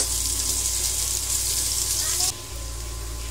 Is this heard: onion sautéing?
yes